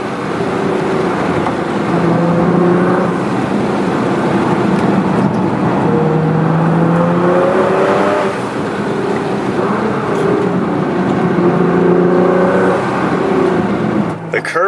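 Nissan GT-R in race mode pulling hard on back roads, a loud continuous engine drone rising and falling through several gear changes, heard from inside the car.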